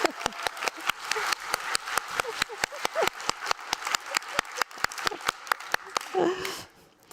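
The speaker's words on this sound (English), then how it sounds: "So, applause meter up." A conference audience claps in a steady, rhythmic beat, sharp evenly spaced claps repeating for several seconds with a voice talking underneath before the clapping stops.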